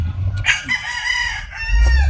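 A rooster crows close by, loud and drawn out, finishing with a falling tail while low rumbling noise sits underneath.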